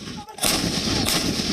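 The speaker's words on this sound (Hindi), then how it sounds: "सेल्फ प्रोपेल्ड आर्टिलरी K9 वज्र। टैंक की रफ्तार और किसी तोप की मार और रेंज" K9 Vajra self-propelled artillery gun of the Indian Army firing, a brief lull then a loud broadband blast that rolls on with sustained rumble and a second surge, close and dominant with no voices.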